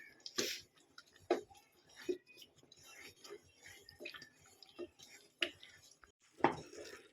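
A spoon or ladle stirs a ghee Mysore pak mixture in a pan. Soft intermittent scrapes and clinks come at an irregular pace, close but fairly quiet, with faint background noise.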